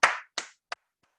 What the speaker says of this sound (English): which is also another round of applause